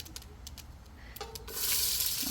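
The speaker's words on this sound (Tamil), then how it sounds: "இப்போ பாதி எண்ணெய் ஊற்றுங்க, இது நெய் ஊற்றுங்க. இப்போ வெங்காயத்தை எடுத்து போடுங்க." Onions go into hot oil and ghee in a pan after a few soft taps and clinks, and a loud, hissing sizzle suddenly bursts up and keeps crackling steadily.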